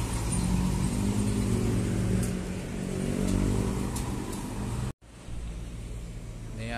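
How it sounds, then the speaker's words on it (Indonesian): Tourist bus engine roaring past a roadside fuel station at night, a loud steady rumble with rising revs that swells and fades, then a brief cut before more traffic noise continues. "Di belakangnya ada Sugiarto bus pariwisata."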